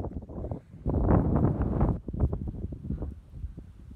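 Strong gusting wind at a cliff edge near the Eski-Kermen cave city, buffeting the microphone in loud irregular blasts that swell and fade, with a long heavy gust in the middle.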